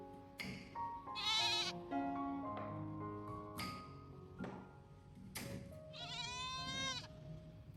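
A pet goat in a rainy garden bleats repeatedly, its wavering calls rising and falling between softer taps and pings, fairly close and moderately loud.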